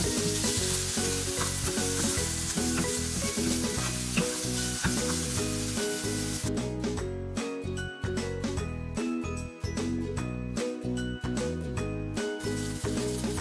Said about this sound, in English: Saute it well till the tomato is nice,